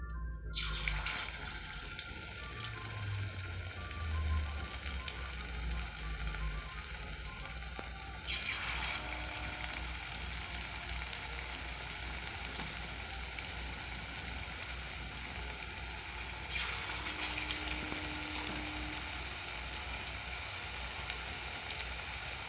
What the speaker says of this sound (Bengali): তেল গরম করে নিয়েছি, পকোড়াগুলো এক এক করে দেব, গোল গোল করে নিব।